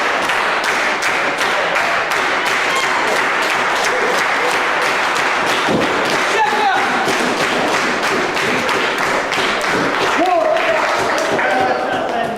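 A wrestling crowd claps and cheers to rally behind a wrestler named Akira, steady loud applause and rhythmic clapping filling the arena throughout, with a commentator's voice heard over it.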